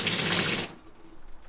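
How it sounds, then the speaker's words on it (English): A Peglar PB50 quarter-turn outside tap gushes water loudly and up close for under a second, then is abruptly shut off, leaving faint drips and quiet. "let's turn the water on and have a look"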